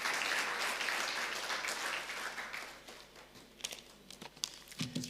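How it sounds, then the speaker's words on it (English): A graduation ceremony audience gives a round of applause, dense clapping from a crowd that is loud at first, then thins and fades into scattered claps by the end. "Can we have a round of applause for Mr."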